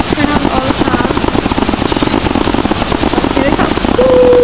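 Fireworks in the Roblox Bloxburg video game crackle in a dense, rapid run of pops throughout, with a whistling rocket tone rising near the end; a voice speaks underneath.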